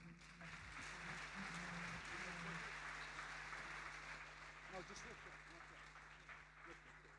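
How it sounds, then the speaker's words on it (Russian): Sustained applause from a large crowd fills the room, steady and dense throughout, with a low hum underneath. "Давайте дадим Господу аплодисменты."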